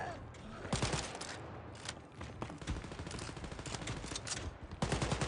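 Rapid bursts of automatic gunfire from the Wolfenstein Youngblood video game, close and loud, with repeated volleys across the stretch and a heavy burst near the end.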